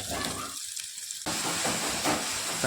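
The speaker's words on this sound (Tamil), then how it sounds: "தக்காளி கொட்டி நல்லா வதக்கிட்டு இருக்கலாம்." Tomatoes sautéing in an oil-coated pan, added after onions browned, for an egg and drumstick-leaf dish: a steady, close, fairly loud broadband sizzle that dips briefly, then resumes stronger, with no talk.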